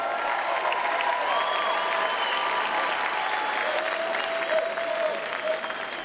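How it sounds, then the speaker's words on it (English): Crowd at the Legends Cup championship game of the Lingerie Football League applauding Atlanta Steam's season, a steady wash of clapping at moderate volume with faint voices and whistles mixed in, lasting throughout. "A round of applause."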